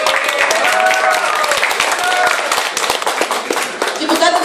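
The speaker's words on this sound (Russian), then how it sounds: "Аплодисменты." Loud, close applause from an audience at a debate event welcoming a newly elected municipal deputy, crisp dense clapping with some voices murmuring underneath throughout.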